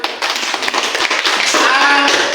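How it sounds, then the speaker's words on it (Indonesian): Classroom applause in a group presentation session, a steady burst of many hands clapping close by for a couple of seconds, loud and dense with no break. "Ya, tepuk tangan dulu."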